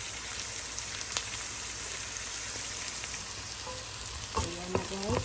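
Onion and garlic frying in hot oil, a dense steady sizzle with crackles, close and continuous, with a few clinking stirs near the end.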